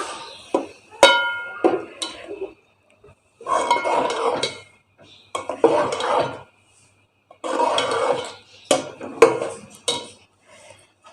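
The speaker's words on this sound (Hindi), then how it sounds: "ये अब हम मसाला डाल रहे हैं इसके अंदर।" Blended masala is added to a pot of cooking sarson ka saag, with a spoon clanking and scraping against the metal pot in several separate bursts, close and fairly loud, with quiet pauses between.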